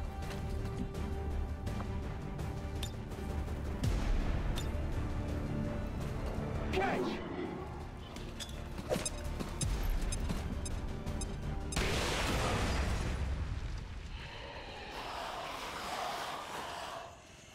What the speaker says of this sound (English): It looks like the double explosion has attracted yet another swarm